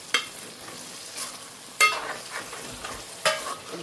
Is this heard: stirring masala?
yes